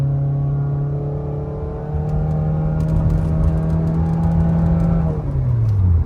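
A Nissan Altima engine revs under roughly half throttle, a steady idle drone rising and holding higher, then easing back down near the end, loud and close with no talking.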